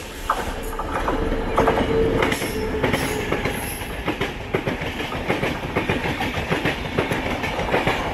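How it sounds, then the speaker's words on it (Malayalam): Kochuveli Sri Ganganagar Express hauled by a WAP-7 electric locomotive passes close by, loud rolling wheels with rapid rhythmic clickety-clack over rail joints and brief wheel squeal, steady throughout with no voices. "കൊച്ചുവേളി ശ്രീ ഗംഗാനഗർ എക്സ്പ്രസ് ആണ്, വാപ് 7 ആണ് ഇപ്പോഴത്തെ ലിങ്ക്."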